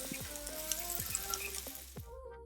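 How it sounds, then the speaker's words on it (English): Tandoori broccoli sizzles steadily in a hot grill pan, a close crackling hiss with occasional faint taps of utensils. "This sizzling sound from your kitchen is perfect to gather your family around for a cozy dinner"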